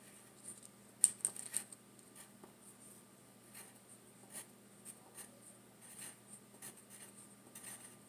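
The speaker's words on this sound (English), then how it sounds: "I'm just going to write the names of these two things up here" A pen writes names on paper in faint, scratchy strokes, with a few sharper taps early on followed by steady, soft scribbling heard close and quiet.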